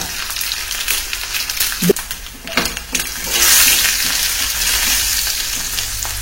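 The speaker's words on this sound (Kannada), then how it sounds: "ಎಣ್ಣೆ ಬಿಸಿಯಾಗಿದೆ. ಸಾಸಿವೆ, ಕುದಿರೋ ಬೆಳ್ಳುಳ್ಳಿ, ಒಂದು 4 ಒಣಗಿದ ಮೆಣಸಿನಕಾಯಿ, ಹಾಗೆ ಹಿಂಗು ಸ್ವಲ್ಪ" Mustard seeds, garlic, four dry red chillies and a pinch of hing sizzle in hot oil for a Karnataka-style tempering, a busy close crackle that swells louder in the second half with a few sharp spatters.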